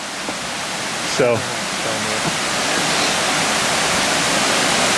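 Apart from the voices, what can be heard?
small waterfall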